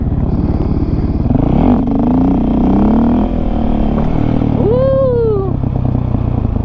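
A dirt bike engine roars close and loud, revving up and dropping as it shifts through second and third gear, with a rider whooping briefly over the steady engine drone.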